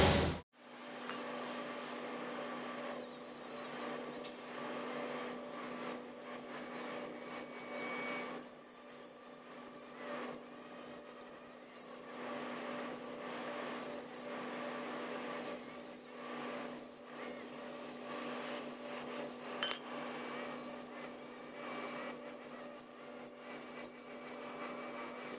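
Rusty Super Duty brake parts are scrubbed with a steel bristle brush or grinder, giving a continuous rasping, rubbing scrape that rises and falls in bursts, close and steady with no talk.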